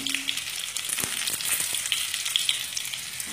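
Potatoes fry in a pan, a continuous bright sizzle with occasional pops and scrapes of stirring, no talking over it.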